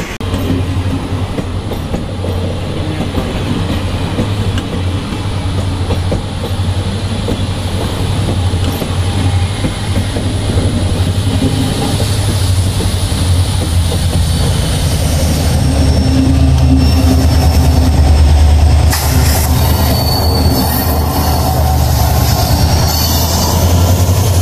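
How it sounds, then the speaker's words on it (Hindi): The Amravati Express passenger train pulls away from Dudhsagar station, a loud, steady rumble of wagons and wheels close by with clickety-clack on the rails and faint squealing, rising slightly toward the end, with no voices. "हमारी अमरावती एक्सप्रेस जा रही है"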